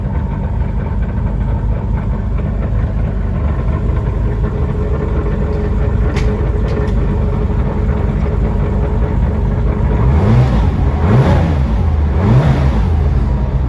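A Porsche 997 GT3 4.0 Clubsport with a lightweight flywheel runs with a steady engine drone, then revs in several quick rising pulls toward the end, loud and close.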